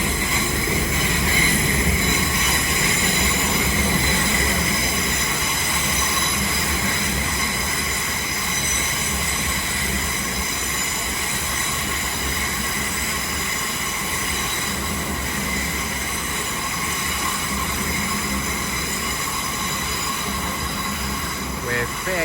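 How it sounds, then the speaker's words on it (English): A Heathrow Express class 387 train pulls out of a London terminus with a continuous loud rumble of wheels and high, sustained squealing tones riding over it for the whole stretch. "Also departing is the slightly delayed 1340 Heathrow Express service to Heathrow Terminal 5"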